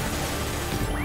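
A flashbang grenade in the video game Mass Effect 2 goes off as one sharp, crashing burst that quickly fills the brief moment, loud and close.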